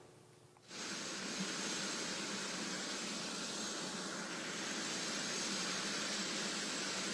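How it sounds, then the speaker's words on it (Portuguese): A loud, whooshing helicopter roar kicks in suddenly after a quiet moment and holds steady as the helicopter powers up and takes off nearby. "vocês devem ouvir o barulho e perceber o vento, o helicóptero que trouxe essas autoridades para cá já está decolando novamente"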